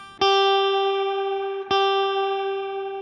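Strymon Nightsky reverb pedal with the drive switched off: two loud, clean sustained notes struck about a second and a half apart, each ringing on with a smooth, bright reverb tail.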